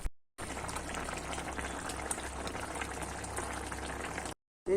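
Fish simmering in curry in a pot, a steady bubbling boil, close and even throughout, with no talking.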